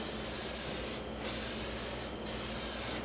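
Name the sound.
spraying adhesive onto slate table cloth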